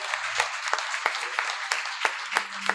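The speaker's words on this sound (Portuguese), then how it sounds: "Você pode aplaudir ao Senhor?" A Sunday evening family church service congregation claps, with sharp separate claps spread unevenly over a low murmur and a faint steady hum.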